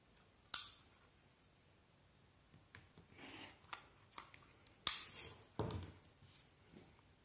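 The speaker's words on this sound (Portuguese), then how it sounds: "Vou cortar esse excesso" Scissors snipping away excess fabric on a sewn patchwork block, a few sharp isolated cuts spaced apart with quieter handling rustles between, close and fairly soft.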